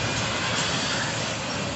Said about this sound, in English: Good side train right here.